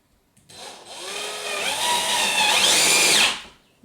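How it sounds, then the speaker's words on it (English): A Black & Decker cordless drill whirs for about three seconds, its motor pitch rising as it runs, then spins down and stops. "I'm going to use my handy dandy battery operated Black Decker."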